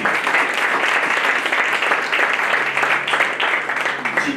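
A church congregation applauds at a French-language service, sustained dense clapping that stays steady and loud throughout with no break.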